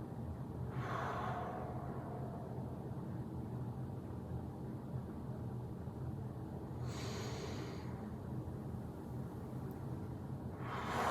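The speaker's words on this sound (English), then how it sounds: "And breathing out." A person exhales slowly during a breathing exercise: three soft, breathy releases spaced several seconds apart over a quiet, steady background hum.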